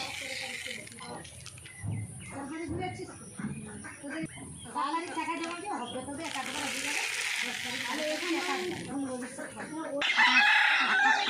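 Ducks of all sizes on a small village duck farm, many overlapping calls going on continuously and close by, while a person talks over them.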